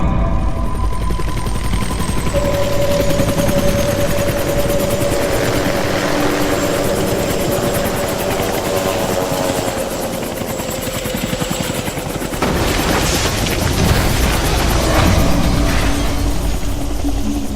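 Helicopter rotor and engine drone fills the whole stretch, loud and steady, with a falling engine whine and rising turbine tones, then a harsh burst of impacts and rattling near the end as the craft goes down under gunfire.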